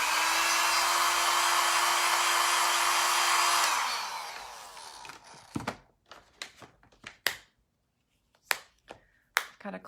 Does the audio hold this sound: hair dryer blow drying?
yes